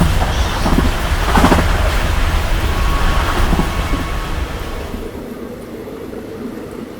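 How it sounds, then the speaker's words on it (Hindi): The Muzaffarpur–Anand Vihar clone special train runs along in a steady loud rumble with rattling clatter, heard from aboard and fading somewhat toward the end. "सो फाइनली अपनी ट्रेन निकल चुकी बिल्कुल ऑन टाइम सुबह के 6:30 पे अपनी मुजफ्फरपुर आनंद विहार अपनी क्लोन स्पेशल ट्रेन"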